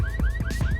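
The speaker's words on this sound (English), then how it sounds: "After looting an ambulance and causing an alarm to go off" A looted ambulance's alarm in the survival game HumanitZ blares in a steady, repeating electronic pattern of rising whoops, loud and close with a low background rumble.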